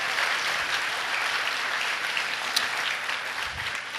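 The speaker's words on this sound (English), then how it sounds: "So a warm round of applause for them would be much appreciated." A roomful of guests at a Coaster Con 46 dinner gives the banquets and events team a warm, even round of applause, a steady dense clapping wash lasting about four seconds with no voices over it.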